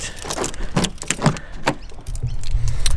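Car being entered on a Saturday of chores, with keys jangling, a door thudding and rustling movement in the cabin, followed by a steady low rumble of the vehicle, close and fairly loud.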